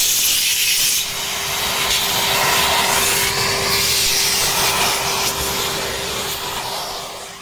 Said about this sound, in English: All that's left to be done is to hoover out the drill stuff